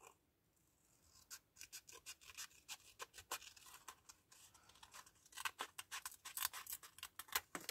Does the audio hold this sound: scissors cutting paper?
yes